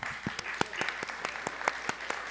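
A small group claps in an even rhythm, individual claps distinct and fairly close, lasting only a couple of seconds.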